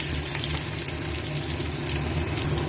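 Two chopped onions frying in hot oil in a pan, a steady close and loud sizzle with a crackling hiss that runs unbroken throughout, with no talking.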